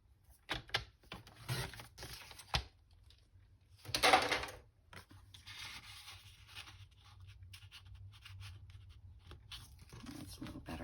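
Paper being trimmed down for a junk journal: soft scratchy scraping and crisp rustling strokes in short bursts, close and quiet, with brief pauses and light handling noises between.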